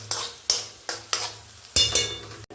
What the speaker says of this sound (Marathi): फक्त मिनिटभर तुम्ही असंच हलवून घ्यायचं आहे तेलामध्ये.